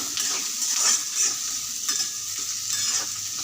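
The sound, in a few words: onions frying in oil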